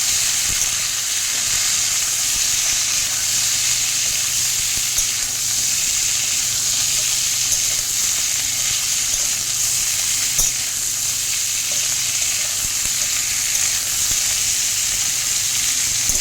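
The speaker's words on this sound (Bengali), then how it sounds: "ভালো করে কলাটা ভাজবো, আলু আর কলা।" Green banana and potato pieces frying in a pan for a rohu fish curry, giving a steady, loud, continuous sizzle with faint stirring throughout, no talking.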